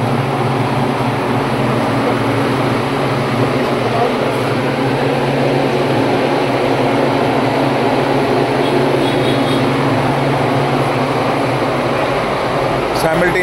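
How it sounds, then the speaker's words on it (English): A wind turbine power generation training system runs at rising speed, giving a steady, loud mechanical whir and hum that holds evenly throughout, with a faint voice talking underneath. "As we are increasing the speed, the speed of the turbine is also increasing."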